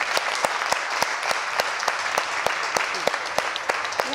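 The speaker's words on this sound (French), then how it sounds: "je voudrais vous demander de l'applaudir très très très fort" Audience at a stadium training event for women football referees in Mali applauding, a steady wash of many hands clapping with sharp individual claps standing out, moderately near and continuous throughout.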